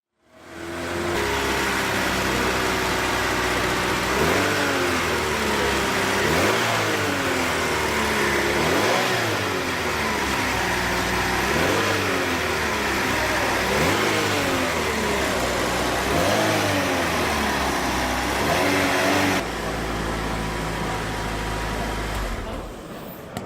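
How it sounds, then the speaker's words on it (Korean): A car engine is started and kept running after a fuel system circuit check, with a steady mid-pitched hum and regular rhythmic revving swells throughout, loud and close. "엔진을 시동을 걸어서 엔진 시동 상태를 확인합니다"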